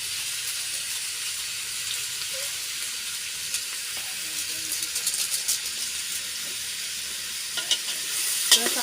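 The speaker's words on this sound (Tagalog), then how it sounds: "Nagluluto ng gulay." Ginataang gulay, vegetables in coconut milk, cooks in a pot over a wood fire, giving a soft steady sizzle and hiss with faint stirring scrapes and clinks that grow busier toward the end.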